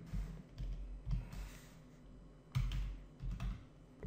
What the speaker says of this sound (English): now inside a parenthesis we need to type two values